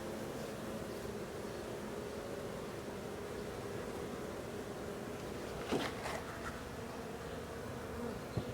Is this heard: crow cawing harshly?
no